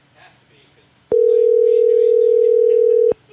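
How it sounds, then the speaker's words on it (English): Phone line tone after a dropped call during a radio show: a single loud, steady tone lasting about two seconds, starting and stopping abruptly, with people talking faintly before and during it. "Can you hear? It's ringing."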